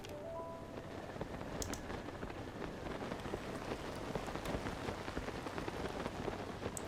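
Steady rainfall in the game Zelda: Tears of the Kingdom, a dense patter of drops on surfaces with a few brighter splashes, even and moderately quiet throughout, with no voices.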